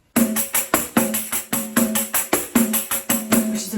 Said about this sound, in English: I'm going to play everything open, no fingers on the back,